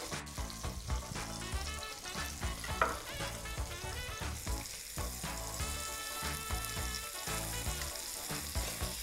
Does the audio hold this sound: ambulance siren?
no